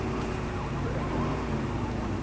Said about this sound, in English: you may order the driver to pull over by blipping your siren